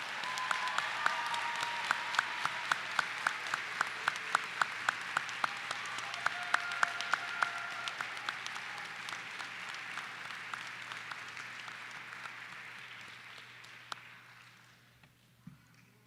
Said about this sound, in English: Let's all give a round of applause.